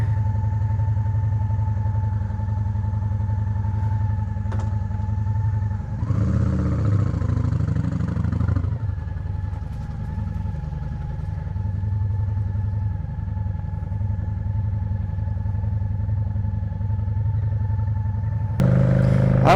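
A Honda Shadow 750 motorcycle engine runs steadily at idle, a close, continuous low rumble with a brief louder burst partway through, as if revved or disturbed.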